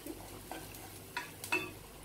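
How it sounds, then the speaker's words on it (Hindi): A spoon stirs turmeric into onions browned in a pan for potato bread-roll stuffing, giving a few soft scraping strokes over a faint sizzle, quiet and close with no talking. "प्याज हमारी अब ब्राउन कलर की हो गई है, अब इसमें हम हल्दी डाल देंगे।"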